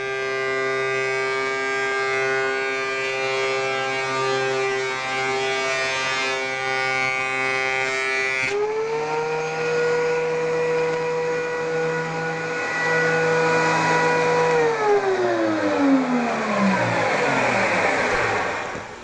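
A wood planer with freshly honed blades surfaces lumber, its loud motor whining steadily. The tone shifts partway through, then the pitch drops toward the end.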